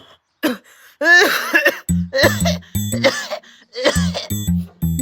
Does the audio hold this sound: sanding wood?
no